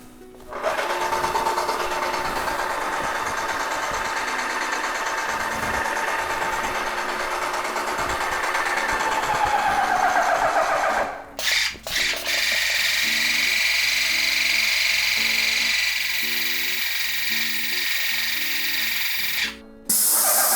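A paint sprayer pumps fluid through its hoses, giving a steady mechanical whir with a rhythmic pulsing in its later part and two brief cutoffs.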